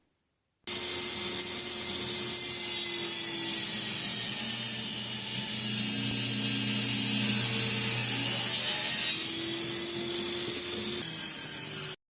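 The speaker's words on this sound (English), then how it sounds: "Now I'm going to rip down a couple 1/2 inch wide sticks." A saw rips a 2x4 into half-inch-wide wooden sticks, starting abruptly into a loud, continuous high whine that lasts about eleven seconds, with slight shifts in pitch as the blade bites and clears the wood.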